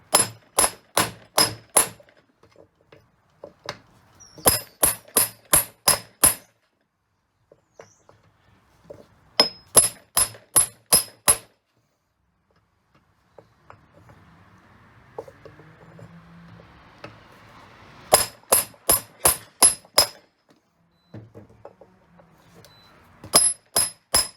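Hammer striking an aluminum mobility scooter wheel to separate its halves: quick bright metallic blows in clusters of four or five, close and sharp, with quiet pauses and faint handling noises between sets.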